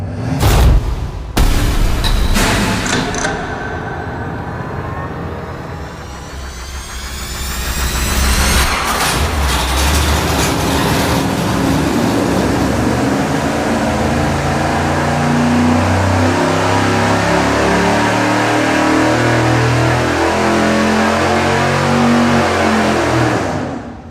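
A 598ci V8 on an engine dyno starts with sharp bangs, then revs and climbs into a loud, sustained roar under load, holding steady and close for most of the run without talk.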